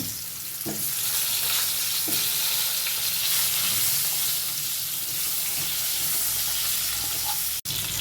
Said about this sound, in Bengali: ওই তেলেই আমি আলুগুলো ভেজে তুলব।